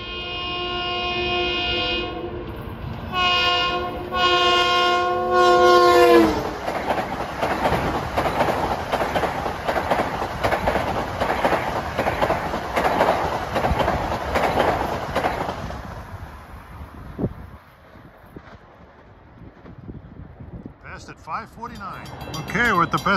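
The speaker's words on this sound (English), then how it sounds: "His 9960 Hicksville Ronkonkoma blasting through." Long Island Rail Road train 9960 on the Central Branch, Hicksville to Ronkonkoma, blasts its horn in several loud chords, then roars through the station without stopping, wheels clattering steadily before the rumble fades.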